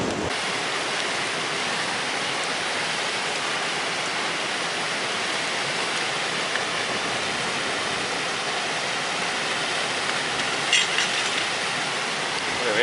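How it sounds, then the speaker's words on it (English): Pot of water at a rolling boil over an outdoor bushcraft fire, a steady, close broadband roar and bubbling hiss that holds evenly throughout without talk. "It's on a rolling boil now, so it's going to be right really."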